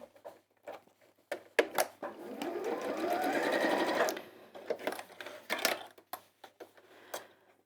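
A domestic sewing machine runs in one steady burst of stitching, holding the pieces of a bag in place near the edge of the seam. Soft handling clicks and a few brief voice sounds surround the run.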